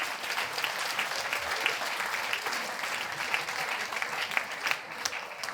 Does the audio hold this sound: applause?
yes